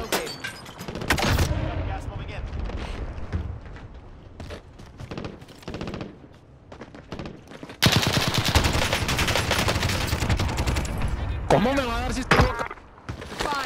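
An RPD machine gun fires in a video game, with dense bursts of rapid gunfire that drop away and then return in a louder sustained stretch. Voices talk intermittently over the shooting.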